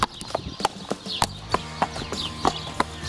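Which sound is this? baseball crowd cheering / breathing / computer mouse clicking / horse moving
horse moving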